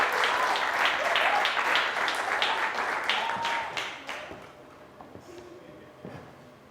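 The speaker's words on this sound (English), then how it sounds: "Ladies and gentlemen, let's give a huge round of applause to Ronald." Applause for a student at a secondary schools quiz challenge, strong crowd clapping that gradually thins and fades out over several seconds, with a few scattered claps and faint murmurs at the end.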